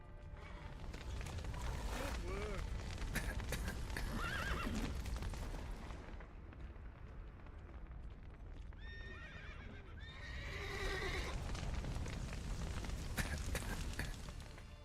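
Video game horses whinny and neigh in two bursts over a busy, noisy background, with hoofbeats clopping along; some voices are mixed in.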